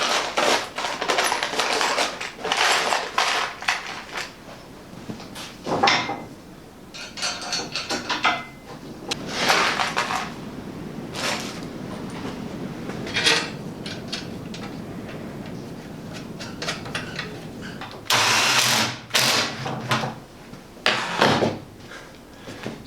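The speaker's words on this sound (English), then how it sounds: "I'm going to try bolting them with some M8 bolts." Metal bars being bolted together with M8 bolts in a workshop, a run of intermittent metallic clinks, scrapes and ratcheting clatters in irregular bursts, with a couple of louder clanks near the end.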